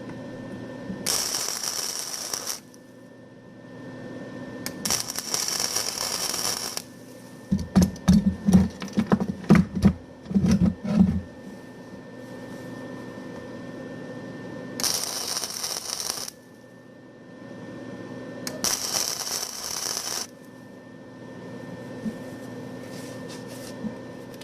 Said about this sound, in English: Going to weld this S hook shut.